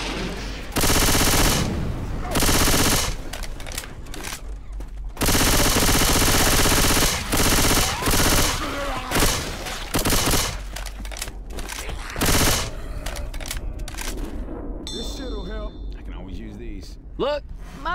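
Rapid automatic gunfire in the Left 4 Dead 2 zombie shooter, long loud bursts of machine-gun fire with short gaps and scattered single shots, fading into quieter game effects toward the end, with voices speaking over the action.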